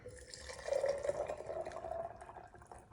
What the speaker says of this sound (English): you pour this in there to be about 3/4 of the jar